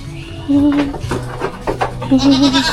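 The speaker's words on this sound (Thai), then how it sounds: "แพะขวิดกันอย่างเงี้ยเนาะ" Goats bleat loudly and close by while butting heads, with a few wavering cries over a noisy outdoor scene and some voices talking in the background.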